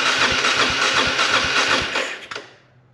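A Suzuki DR350SE dirt bike, long abandoned, has its electric starter cranking: a loud, close whirring with regular rhythmic pulses that never catches, then cuts off with a brief clunk into near silence.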